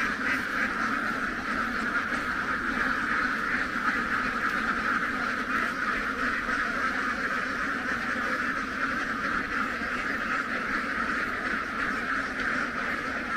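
Large flock of ducks quacking in a rice field at night, a dense continuous chorus of overlapping quacks, steady and close, with no talk over it.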